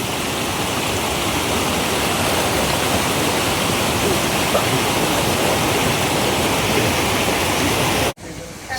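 Waterfall and mountain stream at Kallar Meenmutty rush in a steady, loud broadband roar, constant and close throughout, cutting off abruptly near the end.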